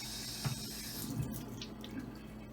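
Tap water runs steadily into a cup in a home kitchen while baking cinnamon rolls, a faint continuous trickle with soft splashy fluctuations, heard alone without talk.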